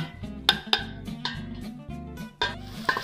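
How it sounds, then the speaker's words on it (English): Butternut squash, potato and leek frying in a little oil in a pot, with repeated clinking and scraping of a utensil against the pan over a low, steady background, close by, no talk. "you can see it's frying up nicely now"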